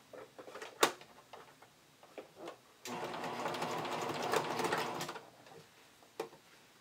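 A sewing machine runs a straight stitch on bikini top fabric in one steady burst of about two seconds, close and clear, with quieter handling clicks and taps before and after.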